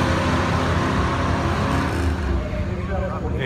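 Race cars thunder past at Music City Raceway in a dense, continuous engine roar that eases slightly toward the end, with voices faintly mixed underneath.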